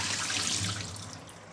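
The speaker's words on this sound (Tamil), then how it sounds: "இப்போ முருங்கைக்காயெல்லாம் இந்த மாதிரி நல்லா அலசி எடுத்துக்கலாம்." Moringa drumsticks are rinsed under a running kitchen tap, making a steady, close hiss of flowing water that eases off slightly toward the end.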